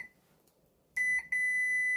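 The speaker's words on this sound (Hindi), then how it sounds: "मैं मीटर को सिर्फ बजर मोड पे लगा दूंगा ताकि आपको आवाज सुनाई दे इसकी।" Multimeter set to buzzer continuity mode while testing an inverter air conditioner's outdoor circuit board, giving a brief faint chirp then a steady high beep that cuts out briefly and resumes, loud and close, no talk.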